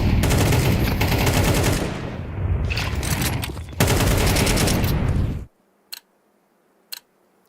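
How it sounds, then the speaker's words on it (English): AK rifle fire in a Counter-Strike esports match at PGL Cluj-Napoca 2026, a loud, dense run of automatic shots lasting about five seconds, then sudden near-silence broken by two sharp isolated cracks. "Sway's just been flicked into by an AK."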